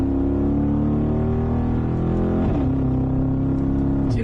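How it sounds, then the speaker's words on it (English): Mercedes-AMG G63 exhaust booming steadily under acceleration, a loud, close, continuous engine roar with a brief gear-change dip midway before the note climbs again. "The noise of those exhausts."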